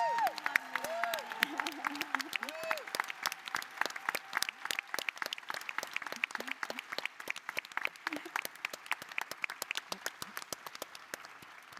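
Audience at a Women's Caucus gathering breaks into sustained applause, dense rapid clapping that carries on throughout at moderate distance, with a voice speaking over it early on.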